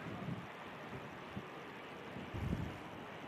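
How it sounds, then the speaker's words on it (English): Gusty wind at Manchester Airport buffets a microphone in low, irregular rumbling bursts, fairly faint and uneven, with stronger gusts near the start and toward the end. "A bit of a blustery day."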